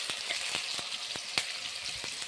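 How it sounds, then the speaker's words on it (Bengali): Potatoes frying in hot oil in a wok make a steady, close sizzle broken by regular scraping ticks of stirring. "এঁচড়ের ডালনার জন্য আমি আলু ভেজে নিচ্ছি।"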